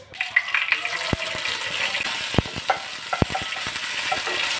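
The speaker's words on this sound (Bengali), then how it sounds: "রসুনটা একটু ভেজে নিয়েছি" Garlic paste frying in hot mustard oil with whole cumin and dried red chillies in a pan for masoor dal, a continuous bright sizzle broken by several sharp clicks of a spoon against the pan.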